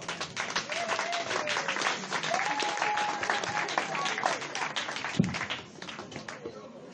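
A church congregation at a funeral claps and applauds together, a dense steady clatter of many hands with voices calling out above it, fading toward the end.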